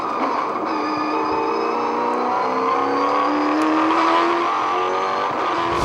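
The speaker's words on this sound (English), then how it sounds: "This is the move from inside Mark Scaife's car." Onboard a V8 Supercar in a 2007 Queensland 300 race, a loud engine screams close up with steady rising and falling revs through gear changes, constant throughout.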